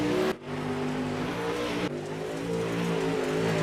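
Super late model race cars roar around the track at a steady high engine pitch, a sustained loud drone with a brief dip as the sound shifts mid-clip.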